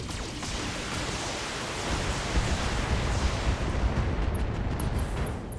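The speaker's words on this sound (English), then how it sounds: "Ammo explosion in the center torso." An ammo explosion bursts inside a mech's center torso in the BattleTech video game, a loud, sustained roaring rumble that swells slightly midway and holds to the end, with no talking.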